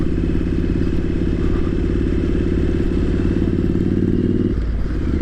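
Triumph Street Scrambler 900 motorcycle on a short test ride, its engine running steadily with a loud, even rumble throughout and a slight shift in tone near the end.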